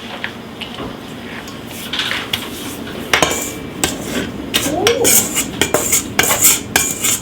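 Cacao is mixed into a chocolate bun mixture in a bowl with a utensil, making close, loud clinks and scrapes that start sparse and become rapid and irregular toward the end.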